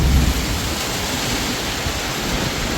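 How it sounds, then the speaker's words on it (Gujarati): Heavy rain pours down with gusting wind in Armenia, a dense, steady hiss of falling water and air filling the whole scene with no voices. "પણ ચાલુ થઈ ગયો વરસાદ."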